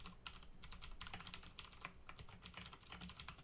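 Rapid typing on a computer keyboard, steady clusters of close key clicks and taps running without pause.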